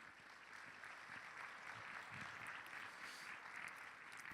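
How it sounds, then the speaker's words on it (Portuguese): A church congregation clapping together, a dense steady wash of applause that sounds distant and soft throughout. "nós celebramos com a nossa melhor oferta de palmas"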